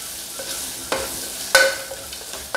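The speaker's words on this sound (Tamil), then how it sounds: "வெங்காயம் வதங்கும் போதே அந்த பவுடரை போடணும்" Onions frying with spice powder for a chicken curry in a pressure cooker: a soft, close sizzle punctuated by a few sharp stirring scrapes and knocks, without speech.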